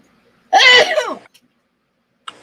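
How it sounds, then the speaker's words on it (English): One hard, explosive sneeze from a man bursts out loud and close, lasting about half a second, followed by silence and a faint short sound afterward. "Oh no, I have a sneeze coming."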